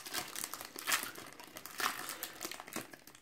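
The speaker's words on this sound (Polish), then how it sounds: "Mój drogi Bartku, twoja saszetka była numer 1, tak więc otwieramy ją najpierw." A crinkly plastic sachet of trading cards being torn open, close crackling and crumpling in a few bursts over about three seconds, with no talk.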